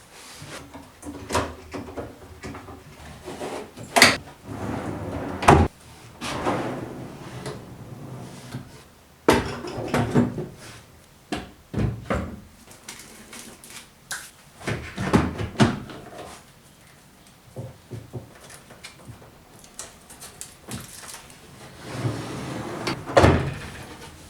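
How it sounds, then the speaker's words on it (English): A wooden drawer is pushed in on newly fitted runners of a woodworking workbench, giving a long series of sliding rumbles, knocks and sharp wooden thumps, close and fairly loud with quiet gaps between. "With the runners installed, I can put the drawer in and see if everything fits correctly."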